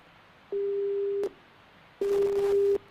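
On a radio call-in show, a dropped phone call gives way to a busy tone: two identical steady electronic beeps, each under a second long, separated by a short silence, clear and close with nothing else around them.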